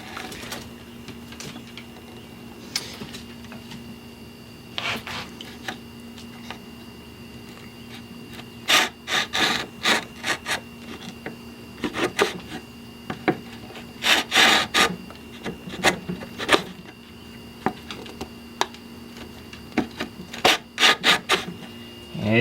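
Hand plane shaving a wooden stopped sliding dovetail, a series of short rasping strokes that come in irregular clusters over a faint steady hum, close and fairly loud.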